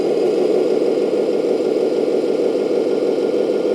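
A radio-controlled 8x8 roll-on/roll-off hydraulic dumper truck with a three-speed gearbox and hub reduction runs at low speed, giving off a steady, even electric whir and gear hum that continues without a break.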